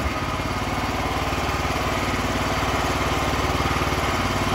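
A Duromax XP13000EH generator engine runs steadily and close by, a loud continuous mechanical drone with a rapid pulsing throb that holds even from start to end.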